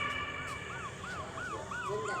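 Ambulance and police sirens wail together in midday street traffic, a repeating rising and falling tone that cycles steadily, moderately loud over a constant background hum.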